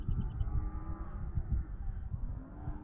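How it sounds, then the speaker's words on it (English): A herd of cows moos from down a mountainside, several low, drawn-out calls overlapping at a distance under steady outdoor ambience, with a few brief high chirps at the start. "That's a lot of cows mooing down there."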